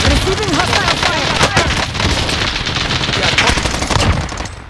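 Loud, dense automatic gunfire and fusillades in Call of Duty Warzone's Payload mode, close and continuous with overlapping shots and booms, and game voices calling out beneath the shooting.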